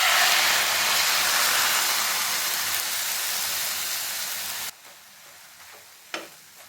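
Milk poured into a pan of ghee-toasted bread for bread halwa, giving a loud steady sizzling hiss that cuts off abruptly, leaving a quieter simmer with a brief splash or stir near the end.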